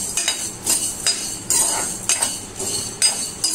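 Whole spices dry-roasting in a kadai for mutton curry, with a metal spoon or spatula scraping and clinking against the pan in a quick, irregular rhythm, close and fairly loud.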